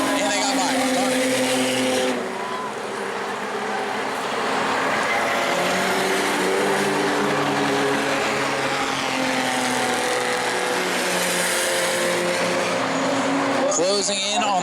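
Race cars roar around the oval track at New Smyrna during the Armadillo Enduro 100, a loud continuous engine wail rising and falling as cars pass, with a commentator talking over it.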